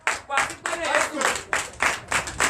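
A church congregation claps in acclamation during a Sunday service, brisk rhythmic hand claps in several bursts, loud and close, mixed with voices.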